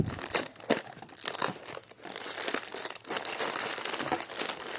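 A parcel package being opened up close: continuous crinkling and crumpling of plastic wrapping, with sharp rustles and occasional tearing.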